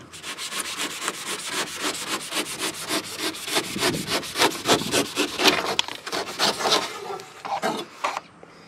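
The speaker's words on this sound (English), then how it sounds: "cut off the extra squirt foam" Rapid rhythmic rasping strokes of a blade cutting off excess cured spray foam, close and fairly loud, with no talking.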